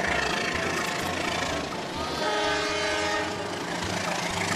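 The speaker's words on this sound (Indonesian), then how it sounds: "kereta api ini sudah datang" A toy Thomas-style steam train pulling into view: sustained whistle-like horn tones over a continuous rolling rumble with faint rhythmic clatter, fairly loud and close.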